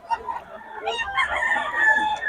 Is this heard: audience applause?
no